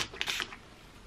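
Texturizing spray hisses in a few short bursts over loose hair curls at close range, then stops, leaving quiet room tone for the rest of the moment.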